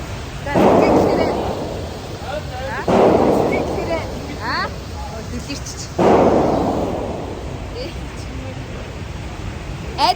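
Three sharp handgun shots at an indoor shooting range target, each a loud blast with a trailing boom, spaced a few seconds apart, with faint voices in the background.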